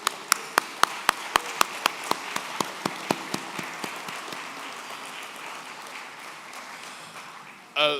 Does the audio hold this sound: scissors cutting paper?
no